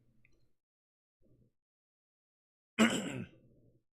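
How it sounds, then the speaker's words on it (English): A single short, breathy cough bursts out close by after near silence, trailing off into a soft exhale. "Sorry for that cough."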